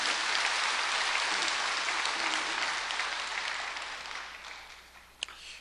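Congregation at a Korean church sermon claps together in steady, dense applause that gradually fades toward the end, with one sharp bump near the close.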